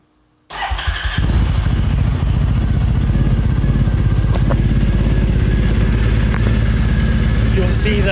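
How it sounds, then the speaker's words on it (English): A motorcycle, its ECU loaded with a new map, starts after a brief silence: a short cranking burst catches and settles into a loud, steady, close idle with a rapid even pulse. "And so when I start the motorcycle now,"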